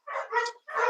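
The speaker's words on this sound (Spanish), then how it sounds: "se están haciendo mucho ruido mis perros" Dogs at home barking, three quick loud barks close by in a short burst with a brief gap before the last, no talk over them.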